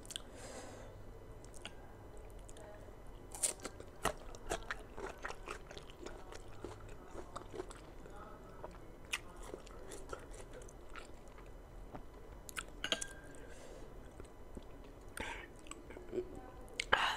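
Crunchy sour green mango eaten with spicy bagoong, heard as close, quiet bites, crunches and wet chewing in an irregular rhythm, with occasional faint mouth sounds and no clear speech.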